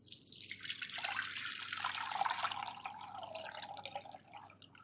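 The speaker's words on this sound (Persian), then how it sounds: "مرحله بعد باید صاف کنیم آب قوره رو. برای صاف کردن من از یک توری استفاده کردم." Homemade verjuice from unripe grape juice pours through a mesh strainer, a continuous splashing trickle of liquid that swells and then thins out, close and alone without talk.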